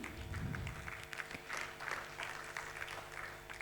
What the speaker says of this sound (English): Shall we have a good round of applause